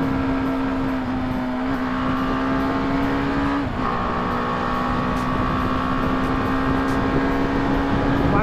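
A BMW G310R 300cc single-cylinder motorcycle cruising on a highway gives a steady, loud engine drone with constant wind roar, holding an even pitch that dips briefly once before resuming.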